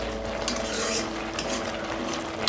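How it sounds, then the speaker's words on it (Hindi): A spoon stirs carrot halwa cooking in milk in a pan, giving a steady, continuous scraping and swishing that runs close and unbroken, with no voices. "एक बार हिला लेते हैं"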